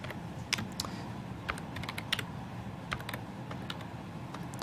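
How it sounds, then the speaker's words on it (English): Keys tapped on a computer keyboard while typing a Linux command to format a disk, a steady run of close, crisp clicks with occasional sharper strokes over a low background hum. "So I'm going to try to type correctly my command."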